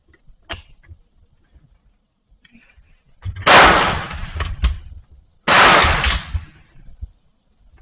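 A VZ52 rifle fires in two loud, sharp bursts of close reports separated by a short pause. A faint click comes earlier, over a quiet outdoor background.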